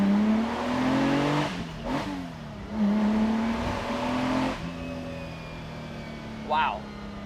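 A restored Lamborghini Miura SV accelerating on a test drive, its engine revving up in repeated pulls with gear changes between them, loud and near. A brief high squeal comes near the end.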